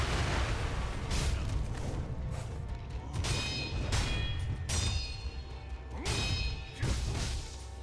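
Firecrackers in Sekiro: Shadows Die Twice go off in several bright, crackling bursts amid combat thuds and whooshes, fairly loud over a rumbling game backdrop.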